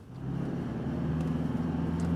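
A Toyota Hilux pickup accelerates in power mode, its engine hum rising and building steadily from inside the cab, a continuous low drone growing louder without any talk.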